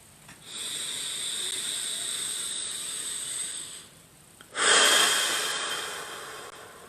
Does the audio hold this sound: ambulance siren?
no